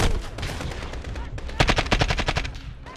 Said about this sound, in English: We just gonna kill the Russian with their own gun